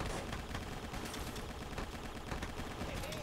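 Rapid gunfire in a video game crackles densely and continuously, shots overlapping in a busy, loud barrage with no pauses.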